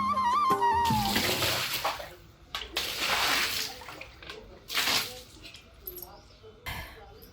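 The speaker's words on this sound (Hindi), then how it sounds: "यहाँ पर फर्श को अच्छे से धुलेंगे" Water splashes and pours across a kitchen floor during washing, coming in broad noisy bursts with brief pauses between, close by and fairly loud, with a short vocal sound near the start.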